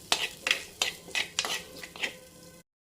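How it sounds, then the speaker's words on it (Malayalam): Chopped small onions (shallots) for a fish curry are stirred in a frying pan, a spatula scraping in about seven rhythmic strokes over a light sizzle before falling silent. "നമ്മൾ കട്ട് ചെയ്ത് വെച്ചിരിക്കുന്ന ചെറിയ ഉള്ളി ഇട്ട് കൊടുക്കുകയാണ്"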